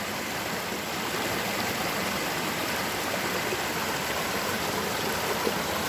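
Creek water runs over rocks in the wilderness, a steady broadband rushing and trickling that stays even and continuous from start to finish, fairly close and uninterrupted.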